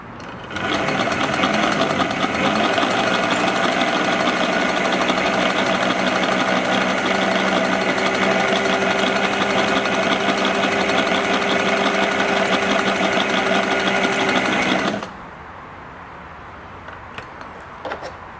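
An Elna Supermatic sewing machine runs at a steady, loud mechanical whir with a humming drive for about fifteen seconds while pulling the top thread down, then stops abruptly, leaving faint clicks and quiet room noise.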